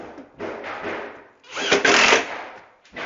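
A power drill drives countersunk screws into a kitchen toe kick during a cabinet installation, the motor whirring in several bursts, one long, strong run in the middle and a short start at the end, close by.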